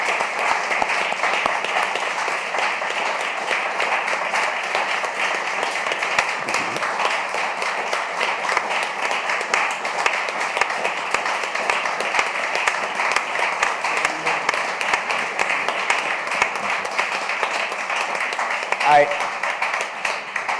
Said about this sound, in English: I want us to give a big applause to the panelists here.